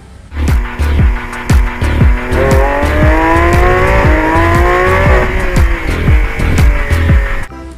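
A Lamborghini race car revs hard and loud through several rising gear changes, engine pitch climbing and dropping repeatedly, with a sharp tire squeal, heard alone and close.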